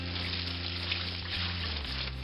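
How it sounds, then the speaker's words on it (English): Tap water runs steadily over an opened poblano pepper, rinsing the seeds out of it in a kitchen sink, with a loud continuous splashing rush and no pauses. "we're just going to wash out those seeds."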